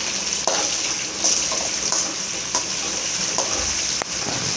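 Curry leaves and whole green chillies sizzle and spit in hot oil for a garlic kuzhambu, a steady close frying hiss broken by a few sharp crackles and stirring clinks.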